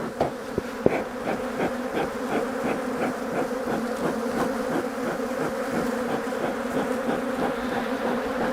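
Dense, steady buzzing of a large honeybee colony fills the air throughout a hive inspection during a three-way split, with a few faint knocks early on and no talking.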